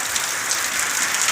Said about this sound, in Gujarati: એટલો વરસાદ પડે છે